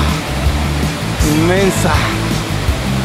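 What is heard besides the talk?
El Sutú waterfall in Mistrató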